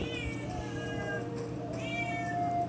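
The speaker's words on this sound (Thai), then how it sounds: "แมวมาร้องแล้วนะสงสัยจะกินข้าว" A cat meows twice, drawn-out rising-then-falling cries with a short gap between them, heard fairly close over a low steady background hum.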